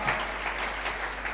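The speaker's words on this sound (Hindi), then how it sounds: "तालियां हो जाए इनके लिए।" A crowd in an auditorium applauds as a child is called onto the stage, a brief, even burst of many hands clapping, fairly close and without talk.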